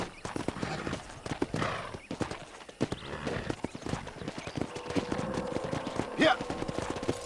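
Rapid hoofbeats clatter in a galloping rhythm, and a horse whinnies sharply toward the end, with game sound effects mixed in, from Red Dead Redemption.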